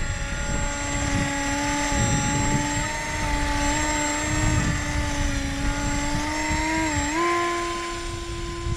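A DIY twin-rotor RC gyrocopter hovers in the wind, its motors giving a steady, loud whirring drone with a constant pitch that dips briefly and then settles a little higher near the end.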